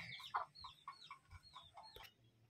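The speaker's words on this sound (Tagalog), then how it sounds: "Daming manok sa doon guys eh." Several chickens cluck in short, uneven calls near an outdoor spot where coconut is being prepared, moderately close and fairly quiet, with no talk.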